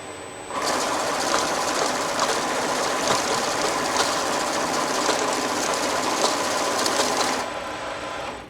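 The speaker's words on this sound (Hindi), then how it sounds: "मशीन ने कैश में सबसे पहले नंबर पे एंटर होने वाले डिनोमिनेशन को सेट करके दूसरे सब डिनोमिनेशन को रिजेक्ट पॉकेट में अलग कर दिया" An NW-1100 currency note counting and sorting machine runs with a steady, dense whirring and rapid fluttering that starts abruptly, holds evenly for several seconds, then cuts off, close and loud with no voices.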